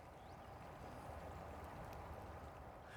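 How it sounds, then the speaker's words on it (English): Water falls steadily from Barton Springs into the pool beside it, a continuous soft rushing and gurgling wash heard from nearby at low level, with no voices. "We're getting some audio of the water falling from Barton Springs on the one side into Barking Springs on the other."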